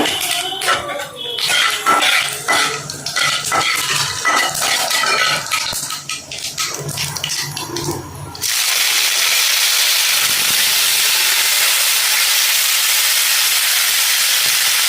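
After some clattering of utensils, a loud, steady sizzle of mustard and cumin seeds frying in hot oil suddenly takes over and continues without a break.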